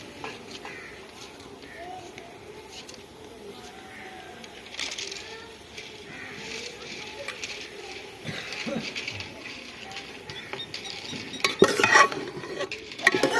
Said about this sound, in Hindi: एक बार फिर मिक्स कर लेंगे।